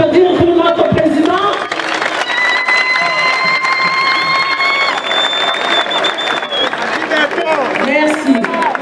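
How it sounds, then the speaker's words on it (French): Crowd applause and cheering in a stadium during a university football tournament launch, with whistles or sustained tonal horns cutting through a dense, steady roar of clapping; voices shout over it throughout. "Pouvons-nous applaudir pour notre président?"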